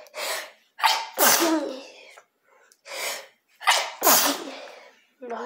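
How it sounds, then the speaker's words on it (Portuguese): Several sneezes come in quick succession, each with a sharp inhale before it, loud and close in a home kitchen. "aí vai espirrar"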